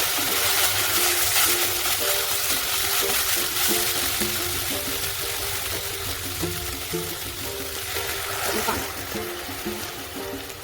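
Vegetable stock water poured into a pot for soup, a continuous loud splashing, gurgling stream that tapers slightly toward the end, with no talking over it.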